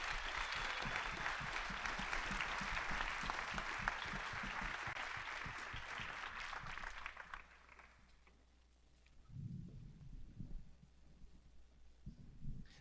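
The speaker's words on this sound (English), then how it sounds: "let's give a round of applause to our moderators and especially our candidates here." Audience applause in a hall for the moderators and candidates of a Republican congressional debate for Utah's 2nd District: steady dense clapping for about seven seconds, then fading to room quiet with a few low murmurs.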